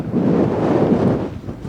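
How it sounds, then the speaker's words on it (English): Strong wind buffets the microphone outdoors on an open hillside, a loud steady low roar that eases slightly near the end, with no other sounds. "It's too windy."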